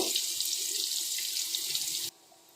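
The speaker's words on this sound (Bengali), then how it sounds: "আলুগুলোকে লাল লাল করে ভেজে নেব" Potato pieces frying in hot oil, a steady, loud broadband sizzle that continues for about two seconds and then abruptly drops away to near silence.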